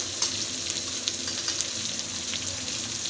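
Turmeric, black masala and red chilli powder sautéing in oil in a pan for a flat bean dish, a continuous bright sizzle with light stirring ticks, close and alone.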